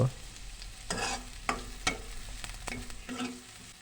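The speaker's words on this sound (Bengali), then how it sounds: "পেঁয়াজ কাঁচামরিচ একটু ভেজে নেব হালকা করে" Onion and green chili frying in two tablespoons of soybean oil for a banana stem stir-fry; a low sizzle runs under several sharp spatula scrapes and stirs against the pan.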